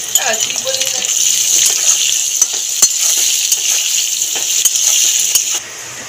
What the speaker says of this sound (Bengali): আলুগুলোকে ভেজে নেব। একটু নুন, একটু হলুদ দিয়ে